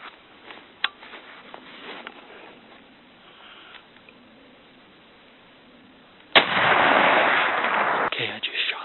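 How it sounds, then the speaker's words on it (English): A single sharp rifle shot cracks loud and close while hunting a mule deer buck, followed by a burst of rushing noise like wind or handling; faint sounds precede it. "Okay, I just shot the buck."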